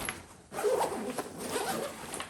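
A zip pocket on a Vanquest Addax 25 backpack being unzipped: a close, steady rasping zipper run lasting about two seconds after a brief quiet start, with no voices.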